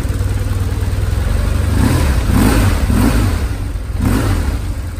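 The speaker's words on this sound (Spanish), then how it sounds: "Un par de acelerones." A BMW R1150 R motorcycle engine idles with a rough, throbbing beat on a cold day, then revs up in a few short bursts before settling back, loud and close.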